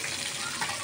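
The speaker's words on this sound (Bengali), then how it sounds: "তাই আমি একটু ভাজা নিতেছি। এই যে এক পিস ভাজা হয়ে গেছে," Fish pieces fry in oil in a pan, heard as a brief, steady, close hiss of sizzling with no talking over it.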